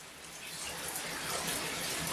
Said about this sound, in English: I'm taking a shower, look, Bubs.